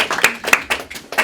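An audience clapping at a gathering, a short burst of a few distinct sharp claps spaced irregularly, close and fairly loud.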